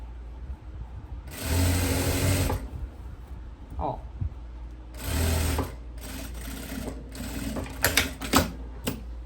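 A sewing machine stitches the neckline binding of a kimono-style dress. It runs in two steady whirring bursts of about a second each, followed by short clicks and handling noise, with someone talking between the runs.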